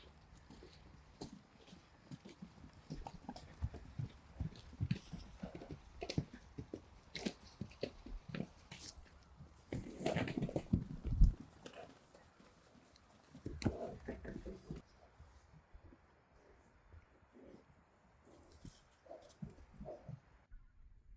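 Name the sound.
Friesian horses walking in pasture, hooves clip-clopping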